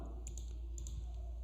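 Keys tapped on a computer keyboard while entering numbers into a document, a few quick light clicks in short bursts, faint and close against a quiet hum, no talk.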